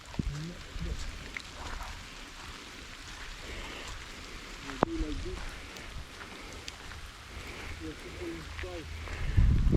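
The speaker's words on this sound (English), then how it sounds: "It's a pity about the rain, man" Rain falls steadily at ANZAC Cove, Gallipoli, a soft continuous patter with a few sharper drops, heard close beneath occasional quiet voices, with a louder gust near the end.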